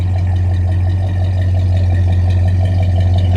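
A mostly original 1969 Buick LeSabre convertible idling, a loud, steady low rumble with an even pulse throughout and no voices.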